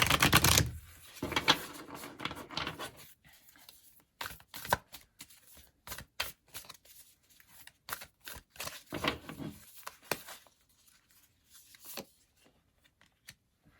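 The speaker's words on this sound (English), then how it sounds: "let's pull another card to see the more energy here" Tarot cards handled from the deck, a quick flurry of shuffling riffles followed by scattered light clicks and snaps, close and crisp.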